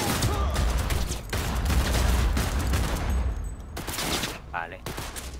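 Weapon fire in the video game Cyberpunk rattles in loud, dense bursts and rapid shots with short breaks, while people talk over it.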